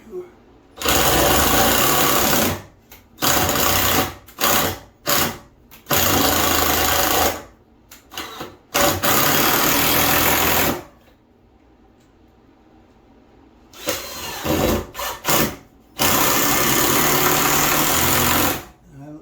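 A power drill drives deck screws into framing during a bathtub installation, whirring in repeated loud bursts of several seconds each, with short pauses in between and a longer quiet gap in the middle.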